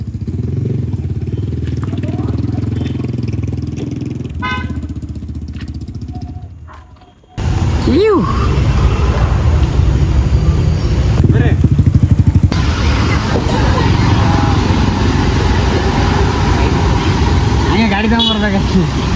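Motorcycle engine running loud and close, with a sharp cut around the middle followed by renewed steady engine roar and rev swells, a voice talking over it.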